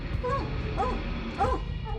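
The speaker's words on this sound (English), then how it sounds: "And Cash and Callie both were barking and raising hell, so I knew that they had the lion in the tree" Hunting dogs bark and bay at a mountain lion treed in the Montana hills at night, several rising yelping barks at a distance over a low rumbling background.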